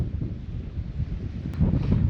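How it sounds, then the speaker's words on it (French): Wind gusts buffet the microphone on a deserted Australian beach, a steady low rumble that swells louder toward the end, with no voices. "J'ai du vent qui vient ici."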